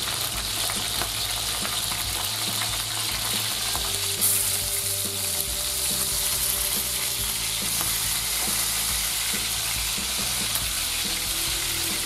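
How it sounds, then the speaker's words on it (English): Steady, loud sizzling of pork belly frying in duck fat in a pan at maximum heat, a continuous crackle and hiss with no talking. "we're going to fry this all in duck fat. Heat up a frying pan, maximum heat."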